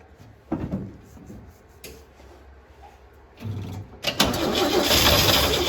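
A 1970 International Scout with a 232 straight-six engine cranks in short bursts, then catches into a loud, rough, rising run near the end, with no voices over it.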